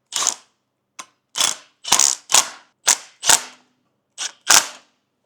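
A ratchet wrench tightens bolts on a 383 stroker engine in a 1967 Chevy II Nova, giving a series of sharp, close clicking bursts in an irregular rhythm with short pauses between strokes.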